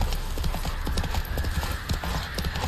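A horse gallops in The Witcher 3, hooves pounding in a fast, continuous rhythm, close and loud, with a short whinny-like note in the mix and no clear talk.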